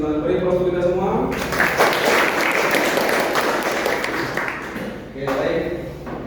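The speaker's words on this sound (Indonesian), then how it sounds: "Beri aplaus untuk kita semua" Classroom applause during a physical education lesson on balance, with broadband clapping that swells and holds for several seconds. Students' voices are mixed in with the clapping, and it eases briefly before a final burst.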